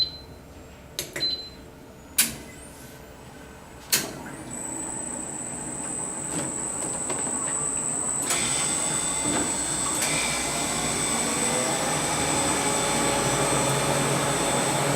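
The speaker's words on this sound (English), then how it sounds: "the machine is ready to be turned on. So you can go ahead and press on the auto button." A Presidential soft-serve ice cream machine starts in auto mode after a few sharp button clicks. Its motor then builds into a steady whirring hum with a high whine, heard close up with no voices.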